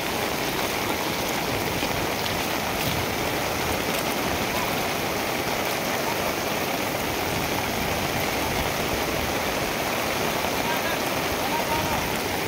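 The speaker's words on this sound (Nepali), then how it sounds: "बाढी त बढेको बढेको छ त हौ" A swollen, flooded river rushes steadily after days of heavy rain, a dense broadband roar of water that stays loud and unbroken throughout.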